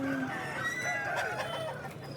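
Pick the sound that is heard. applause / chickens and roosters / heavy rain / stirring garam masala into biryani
chickens and roosters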